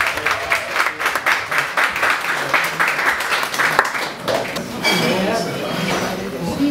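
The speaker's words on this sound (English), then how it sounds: "Clap it up, y'all." A live show audience claps as an artist is introduced, a dense and fairly loud burst of hand claps mixed with voices.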